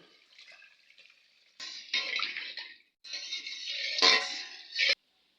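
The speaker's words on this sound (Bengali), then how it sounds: "খুব বেশি গ্রেভি করব না অল্প একটু জল দেব" Water poured into a simmering egg curry gravy for egg do peyaja, a brief trickle and then a longer splashing pour, close and fairly loud, with no talking.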